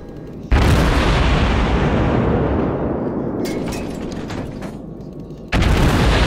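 A warship's artillery salvo in World of Warships aboard the USS St. Louis: a loud sudden boom followed by a long decaying rumble, then a second heavy blast near the end.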